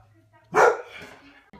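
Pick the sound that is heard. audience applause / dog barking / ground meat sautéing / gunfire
dog barking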